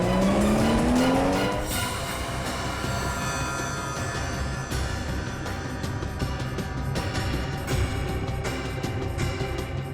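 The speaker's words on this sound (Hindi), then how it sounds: "ये गाड़ी इतनी तेज क्यों भगा रहा है अचानक?" A car speeds hard with squealing tires in a Hindi TV crime drama scene. A loud, steady engine roar runs throughout, with a sharp squeal sliding upward at the start and no talking.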